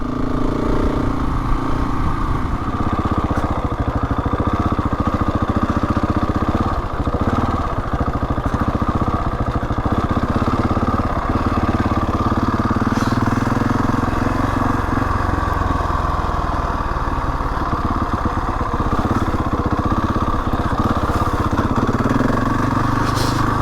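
Husqvarna 701 Enduro motorcycle riding out in open country, its single engine droning steadily throughout with rough, fluctuating rumble and wind, no voices heard.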